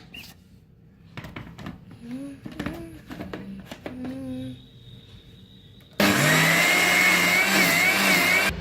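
A kitchen mixer grinder whirs loudly as it grinds thick gulab jamun batter with a little water, starting abruptly after a stretch of quieter voices and kitchen clatter, then running steadily to the end.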